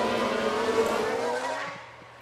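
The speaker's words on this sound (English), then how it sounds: "Sounds like there's been a crash." Race car crash with skidding tyres in the F1 Manager 22 video game at Imola: a loud, dense roar with shifting tonal squeal lines that holds steady, then fades out over the last half second.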